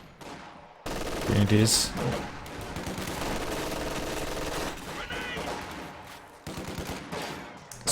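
Machine gun fire rattles through a Company of Heroes 2 battle in sustained, rapid bursts amid other combat noise, with a commentator talking over it.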